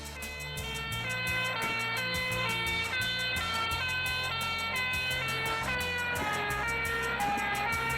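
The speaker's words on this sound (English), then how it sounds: "when a fire engine goes by, you can hear its siren change." Fire engine siren wailing steadily as the truck passes, its repeating tones shifting in pitch near the end, loud and continuous over road rumble from the vehicle's engine.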